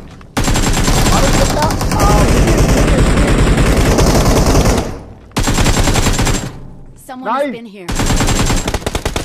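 AKM rifle fire in a battle-royale video game rattles in long, loud, rapid automatic bursts, broken by short pauses, with brief voices between the volleys.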